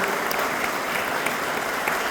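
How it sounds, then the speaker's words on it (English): An audience at a heritage farm celebration in Perryton, Texas applauds FFA students with a brief, even wash of many hands clapping that holds steady and fairly loud. "So give those kids a round of applause."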